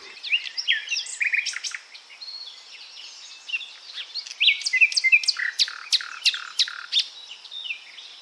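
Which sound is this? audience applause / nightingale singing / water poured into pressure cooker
nightingale singing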